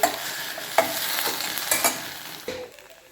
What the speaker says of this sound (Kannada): ಇದನ್ನು ಹುರ್ಕೊತಾನೆ ಇರ್ಬೇಕು